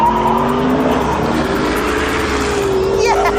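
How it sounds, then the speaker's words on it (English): A supercar drifts at 110 mph, a sustained high tire squeal riding over a loud engine roar, with a voice talking over it. "That was a 110-mile-an-hour drift"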